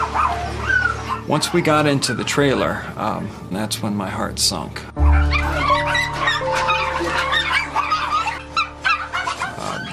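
A few hundred dogs and puppies are crowded inside a puppy mill trailer. Barks, yips and whimpers come in bursts close by, under and between a voiceover.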